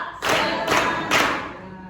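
Three sharp bursts of group clapping from students at a school orientation event, spaced in a steady counted rhythm, loud and close with no talking.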